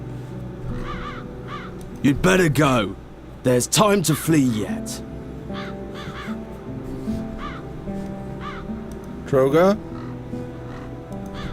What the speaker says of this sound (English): As long as the crows are wreaking havoc, nobody is admitted to the castle.